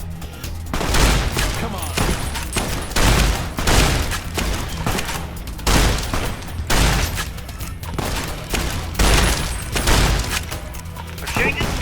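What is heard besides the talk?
gunfire in Fallout: New Vegas video game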